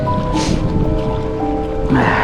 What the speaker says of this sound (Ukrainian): Хвилі хлюпають якраз.